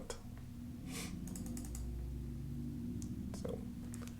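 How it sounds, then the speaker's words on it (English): Computer keyboard keys tapped in short scattered bursts while an email signature is being created, quiet and close against a steady low background hum, with no one speaking. "And you just start typing."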